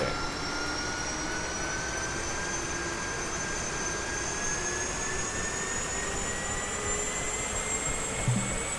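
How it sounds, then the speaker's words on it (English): A Huey UH-1 helicopter's turbine spooling up in the DCS World flight simulator, a steady loud whine with tones rising gradually over several seconds above a broad rushing roar, no talking. "And the turbine's coming up very nicely."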